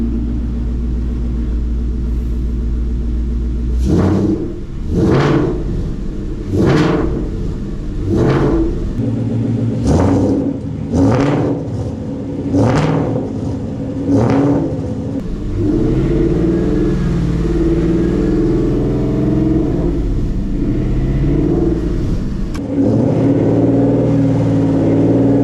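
A 2013 Ford Mustang GT V8, just fitted with billet oil pump gears and crank sprocket, idles steadily then takes a series of about seven sharp blips of the throttle, each rising and falling, before settling back to a loud rumbling idle.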